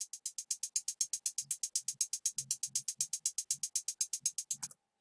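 Two separate hi-hat samples, one panned left and one right, tick in a fast steady run of crisp close hits with no gaps, a soft low drum thump coming and going beneath them.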